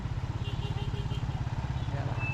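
A motorcycle engine revs and idles with a steady pulsing throb in a total traffic jam, loud and close, alone without talk.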